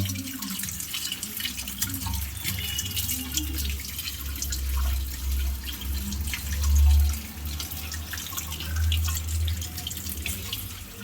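Tap water runs steadily while a whole batch of native chicken meat is rinsed by hand in a sink, a continuous close splashing wash with occasional heavier gushes and drips, no voices.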